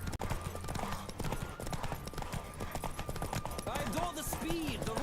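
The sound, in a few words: horse galloping during a race in The Witcher 3 video game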